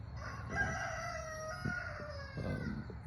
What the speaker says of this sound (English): My rooster wants everybody to be awake, as you can tell.